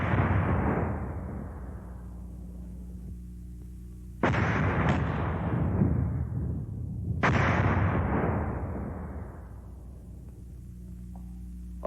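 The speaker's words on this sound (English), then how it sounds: "Our mortars can take care of the enemy's machine guns." Mortar rounds fire and burst in three heavy booming blasts about four and three seconds apart, each with a long rumbling decay, loud and close in an open field setting.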